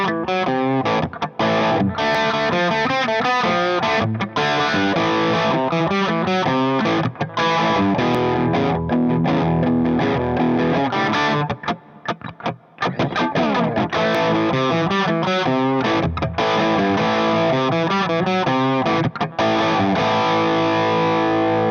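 An electric guitar, an Epiphone Les Paul Standard or Vintage V100 Les Paul-style model, is played through a high-gain amp, delivering a 1970s rock tone in a continuous riff of distorted chords and notes, loud and close without talk.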